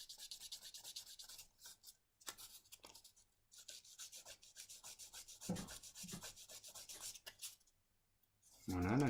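A file rasps back and forth across a miniature figure's arm in close repeated strokes, with brief gaps between passes and a voice speaking near the end.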